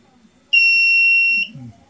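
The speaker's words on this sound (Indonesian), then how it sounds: "kalau dihidupkan Ini kasih alarm" Alarm from an AMF ATS panel fitted with a Deepsea 3110 controller: one loud, steady electronic tone held for about a second, then cut off, with faint background noise before and a voice just after.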